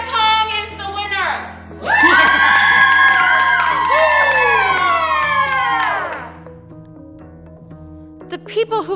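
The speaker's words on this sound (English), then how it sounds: "The people who once cheered at the prospect of tearing Budi apart now cheer more at his victory" A large crowd, with children's voices among it, erupts in loud cheering and shouting to celebrate a winner, swelling for several seconds before fading into quieter chatter and a final burst.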